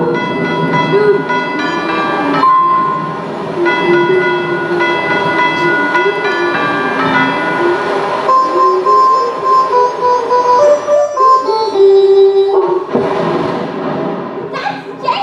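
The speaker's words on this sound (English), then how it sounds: "That's Jingle Bells." The Jingle Bells tune is played as a clue in a stage guessing game, a bright, steady melodic line with bell-like tones running loudly for several seconds.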